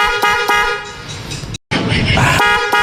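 A newly fitted horn on a Hero Passion Pro motorcycle honks in several close, loud blasts with a brief silent gap midway, its steady tone set against faint traffic noise.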